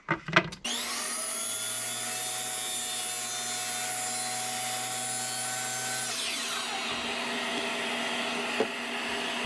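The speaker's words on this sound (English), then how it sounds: "I used the miter saw at 30 degrees to cut out the straight part" A miter saw cuts baseboard at a 30-degree angle, with a steady high motor whine running for several seconds, close and alone, before the blade winds down.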